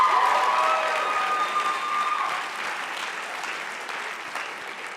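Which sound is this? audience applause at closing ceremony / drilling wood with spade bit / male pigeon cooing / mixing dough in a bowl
audience applause at closing ceremony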